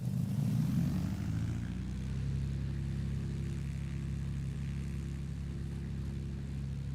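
Propeller engine of an L-19 light plane in Microsoft Flight Simulator 2024, a steady low drone that swells briefly near the start as the throttle moves, then settles into a constant hum.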